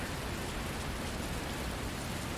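Steady rain in The Bus driving video game, a dense, even hiss of rainfall that stays constant throughout with no pauses and no voices.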